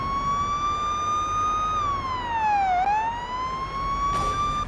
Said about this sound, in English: We're just going to activate our sirens